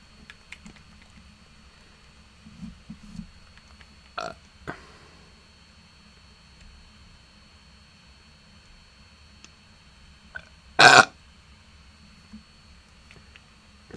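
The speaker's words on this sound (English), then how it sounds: "I hear your burp, and I raise you a burp sody." A single loud, brief burp stands out near the end against quiet background hiss, with a few faint clicks and small knocks around a tabletop miniatures game.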